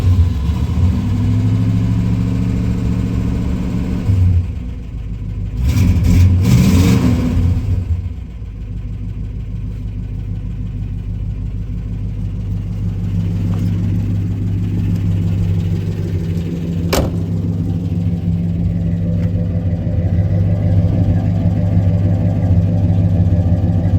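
A 1965 Plymouth Belvedere II V8 with dual exhaust and a weak accelerator pump, idling in a deep steady rumble, with a brief rev in the middle before settling back to a loud close idle.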